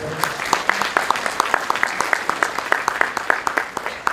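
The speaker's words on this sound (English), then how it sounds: "So give him another round of applause" Applause at an awards night, with crisp, closely miked clapping in quick rhythmic bursts over a steady wash of crowd clapping, and some voices faintly underneath.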